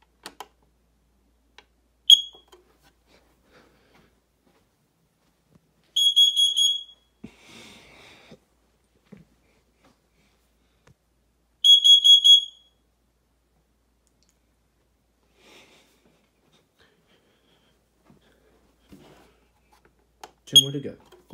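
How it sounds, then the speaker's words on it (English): A household smoke alarm under test emits short bursts of piercing high beeps, three separate sounding bursts spaced apart, with clicks and quiet handling noise between them. "let's go ahead and get started the smoke alarm test video"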